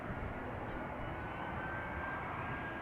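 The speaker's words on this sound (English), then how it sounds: "Air France Embraer 190 arriving from Lyon after that." An Air France Embraer 190 arriving from Lyon at Amsterdam Schiphol gives a steady, broad jet engine roar at moderate distance, even and continuous throughout without voices.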